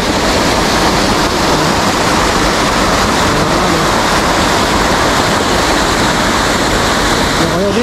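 A waterfall at a hidden resort in Infanta, Quezon roars in a loud, continuous, close-up wash of churning water with a strong current and no break throughout.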